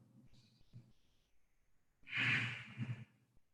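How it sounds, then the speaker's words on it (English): Ujjayi breathing in a yoga practice, a close, breathy throat-constricted exhale with a soft ocean-like hiss lasting about a second, preceded by quiet murmured sounds. "Breathing with sound, making a sound with the breath as it passes by your throat."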